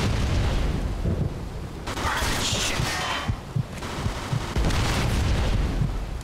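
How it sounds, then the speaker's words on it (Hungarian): Grenades detonate in a video game, several heavy booming blasts in quick succession with rumbling debris, while players talk excitedly over the noise. "Egy autó nem robbant fel. Három gránáttól."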